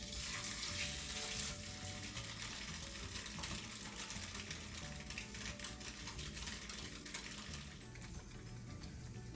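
Tofu frying in a pan of melted coconut oil, a steady dense sizzle and crackle that holds loud and even from start to finish.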